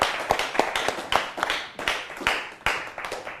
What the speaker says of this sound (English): One more round of applause for Jack.